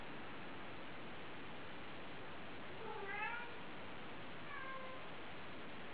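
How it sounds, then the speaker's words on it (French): A cat meows twice from behind a closed door over steady hiss, a short strained cry followed by a fainter one, sounding muffled and somewhat distant. "Alors vous devez entendre Apollo qui miaule derrière la porte."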